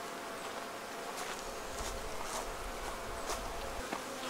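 Honey bees hum faintly around an open beehive while a beekeeper works, with a steady low drone and occasional louder passes of single bees near the microphone, alongside light rustling and handling noises.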